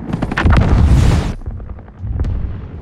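Underwater grenade detonation from the shark film The Meg, a loud roaring burst of rumbling blast noise followed by a second, lower surge of churning boom.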